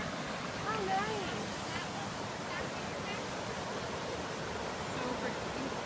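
A waterfall on a hiking trail pours muddy brown water, giving a steady broadband rush that runs unbroken throughout, with faint voices beneath the roar.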